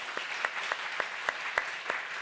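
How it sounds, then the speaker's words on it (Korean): A church congregation claps during a Sunday worship service, the applause fairly faint and sparse, with distinct sharp claps landing in a loose, steady rhythm for a couple of seconds. "박수 한번 할까요?"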